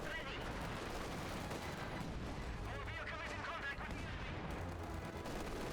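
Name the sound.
gunfire from German infantry in a WWII strategy video game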